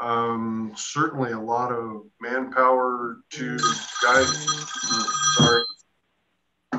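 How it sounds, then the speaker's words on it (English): A telephone rings during a wastewater committee meeting, its bright electronic ring partly overlapping someone talking and then ringing on briefly alone. "apologies for the phone ringing"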